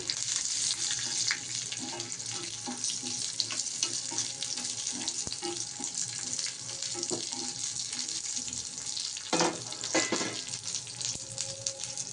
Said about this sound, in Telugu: కిస్మిస్ కూడా వేగిపోయాయండి.